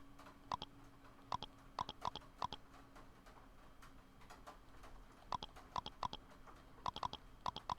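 A character in the Chibi-Robo video game crunches cookie crumbs: short, crisp crunching bursts arrive in quick clusters of two to four, with pauses between them, over a steady low electronic hum.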